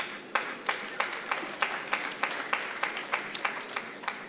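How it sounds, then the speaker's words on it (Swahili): An audience applauds at a gathering with a steady round of clapping that comes in regular surges, moderately close and fairly quiet, with no speech. "tumpigie ndugu wetu makofi"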